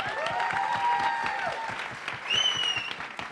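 An audience applauds for a singer at a world model contest, a steady dense wash of clapping with whistles and tonal music or voices sliding above it.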